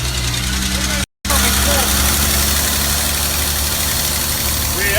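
An old fire engine being road tested, its engine droning steadily and loud through a rough, vibrating run with a brief dropout near the start; voices can be heard over it.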